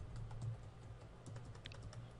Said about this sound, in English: I'm just not typing very well today.